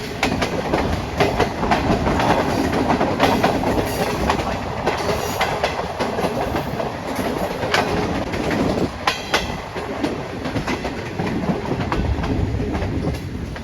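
Awam Express passenger train running on track between Rawalpindi and Peshawar, heard from on board as a loud, continuous rumble with rhythmic clickety-clack of wheels over rail joints and no voices.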